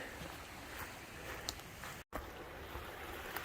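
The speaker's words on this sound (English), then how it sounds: "There's water up here at the top of a mountain. The snow is still melting because we're at the top." A small trickle of snowmelt runs over rocks near a mountaintop, a steady broadband rush and burble that holds close and even, with one brief dropout partway through.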